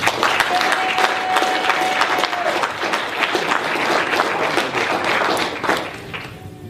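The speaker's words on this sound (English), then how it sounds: "I want y'all to give a strong round of applause for our brother Watani Tyiemba" An audience at a talk on police terrorism gives a strong, sustained round of applause, loud and dense with a few whoops, gradually thinning near the end.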